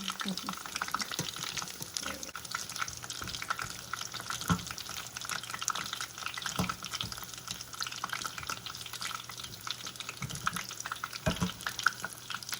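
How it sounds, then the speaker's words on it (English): Tempura chicken frying in hot oil gives a steady, close sizzle and crackle throughout, with occasional soft knocks and clicks as pieces are turned. "when you're cooking tempura chicken, you're going to want to flip it"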